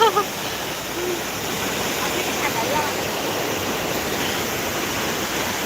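Clear water pours steadily down a river cascade, a continuous broadband rush close by, with excited voices reacting over it.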